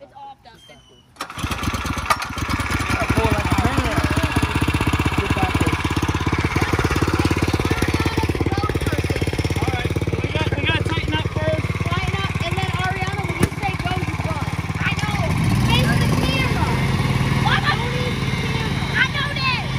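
A lawn mower engine starts up and runs loudly and steadily during a tug of war against a tank, with people talking and shouting over the droning motor.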